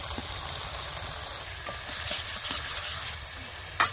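Chopped tomato frying in spiced masala, a steady sizzle and bubbling with soft stirring scrapes and a sharper clink near the end.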